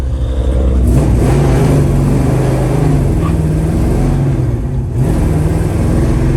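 A 1967 Chevrolet Chevelle heard from inside while driving, its engine droning and pulling steadily as it climbs through the gears, loud and close, with rumbling road noise beneath.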